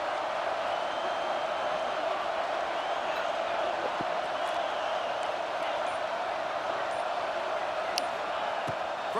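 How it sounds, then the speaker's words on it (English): Stadium crowd in the game EA Sports College Football 26, a steady roar of thousands of fans with a constant wash of cheering that never lets up, with a commentator's voice faintly over it. "this crowd trying to help keep them there"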